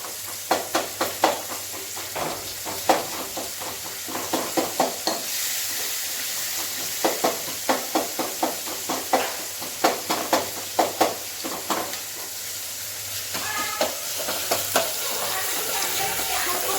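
Tomato and onion sizzle and fry steadily in a pan, with repeated scraping and stirring strokes throughout and no talking.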